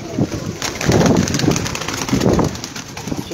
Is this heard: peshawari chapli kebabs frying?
no